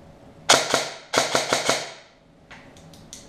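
Rapid bursts of sharp, snappy shots from an airsoft gun: a single shot, then a quick string of four, then softer clicks.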